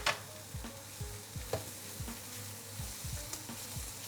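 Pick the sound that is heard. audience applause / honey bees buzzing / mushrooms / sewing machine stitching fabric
mushrooms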